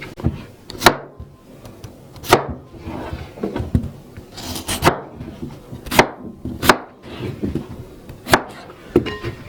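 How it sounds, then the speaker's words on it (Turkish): A knife chops through potatoes onto a board in sharp, evenly spaced strokes, about one each second, close and crisp. "bütün patatesleri doğradık"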